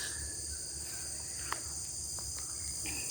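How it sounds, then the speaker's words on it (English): Crickets and other insects buzz loudly in a garden in the morning, a constant high chirring drone heard alone, with a faint bird-like chirp or two. "the bugs are really loud this morning"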